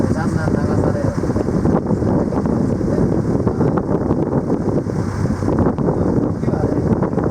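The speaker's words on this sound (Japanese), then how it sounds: "風が吹いているので、だんだん流されるので" Wind blowing around a small boat on the water, a steady loud rumbling buffet of wind across the microphone with faint splashing beneath, constant throughout while a voice talks under it.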